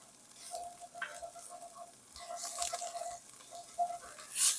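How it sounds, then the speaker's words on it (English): A bowl of spices sizzles in a hot pan for curry, heard as a soft crackling fry with light stirring and a few faint clinks, fairly quiet and close. "I'm gonna go ahead and dump in our nice bowl of spices. And we're gonna cook those in here to wake them up with the heat."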